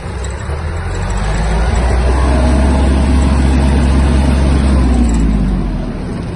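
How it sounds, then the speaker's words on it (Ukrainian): A Kubota GL-240 Japanese mini tractor, 1200 kg, accelerates with its diesel engine rising into a steady low rumble, close and loud, swelling over the first seconds and holding a strong drone. "Давайте ще покажу вам, як трактор набирає швидкість."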